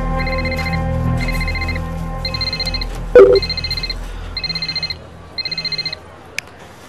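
A telephone rings in repeated electronic bursts of trilling tones, with a brief thump partway through and low background noise underneath, no voices over it.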